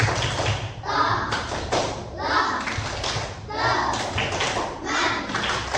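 Children in an Indonesian primary-school class perform the 'tepuk menolong' clapping chant, rhythmic bursts of claps and thumps interleaved with their chanted voices, fairly close and moderately loud.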